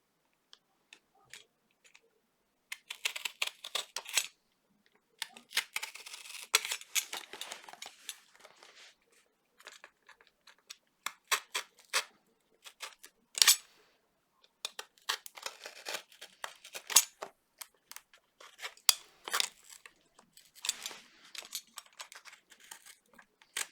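Cardboard box being cut by hand to make a CD spectrometer viewing hole: bursts of crisp slicing, tearing and crinkling with short pauses between strokes, close and fairly quiet, with no talking.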